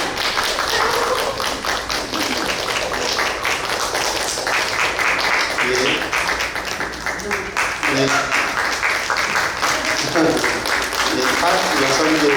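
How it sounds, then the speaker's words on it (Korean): A church congregation at a Sunday service breaks into lively applause to welcome someone, loud and close, with the clapping continuing throughout while people talk and call out over it. "우리 박수로 환영할게요"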